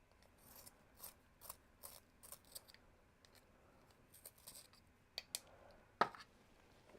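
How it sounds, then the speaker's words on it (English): A pastel pencil is sharpened by hand, producing a quiet series of short scraping, gritty rasps at irregular intervals, with one sharper click near the end and near silence between strokes. "I'll sharpen this."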